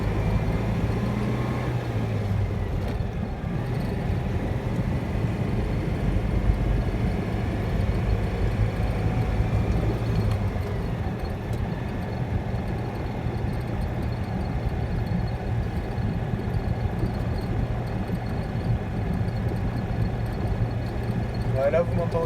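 A Citroen 2CV engine drones steadily at a low pitch while driving in fourth gear at 50, with a constant hum and road rumble and no pauses.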